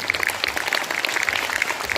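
An audience at a school prize distribution and motivational seminar claps steadily, a dense patter of many hands that stays loud and even throughout.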